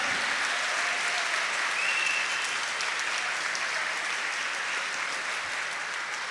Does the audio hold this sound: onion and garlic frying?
no